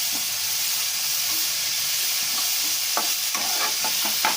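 Flat beans and shrimp frying in a pan with a broad steady sizzle and hiss, while a spoon scrapes and stirs in several short strokes toward the end, close up with no talk.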